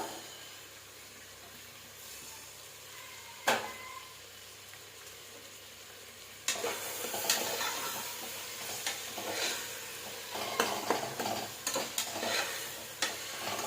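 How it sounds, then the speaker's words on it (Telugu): Beans, carrot and potato stirred and frying in a pan with tomato for tomato bath, a steady sizzle running throughout, with sharp scrapes and clatters of the spoon against the pan growing busier and louder in the second half. "టమాటో ఫ్రై అయిపోయాయి కాబట్టి అందులోకి వెజిటేబుల్స్ వేసేద్దాం"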